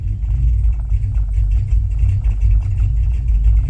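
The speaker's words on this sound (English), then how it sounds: "She idling kind of low, but it'll be all right." An old car engine idles low and rough in a steady, close rumble with slight uneven pulsing, alone without voices.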